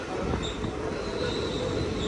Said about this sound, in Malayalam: കേന്ദ്രഭരണ പ്രദേശമായ മാഹിയിലേക്ക് ഇതാ നമ്മുടെ ട്രെയിൻ എത്തിക്കൊണ്ടിരിക്കുകയാണ്